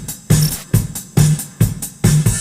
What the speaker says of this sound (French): Les deux ensemble, la batterie et la boîte à rythme.